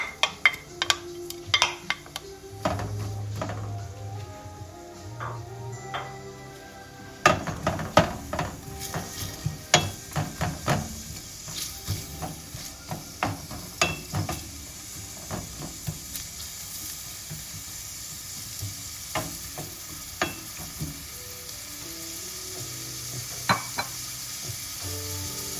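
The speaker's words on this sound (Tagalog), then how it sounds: "Isosote natin ang onion ngayon." Onion sautéing in a pan hisses and sizzles steadily, broken by frequent clinks and scrapes of a utensil stirring against the pan, close by with no talking.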